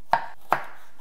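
A knife cuts ginger into thin julienne shreds on a board, with two crisp, separate chops about half a second apart and quiet in between.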